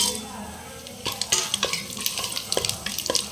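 Whole spices for pulao, including shahjeera, cinnamon, cloves, cardamom, star anise and mace, frying in a pot: a steady soft sizzle with scattered clinks and scrapes from a spoon stirring, close by.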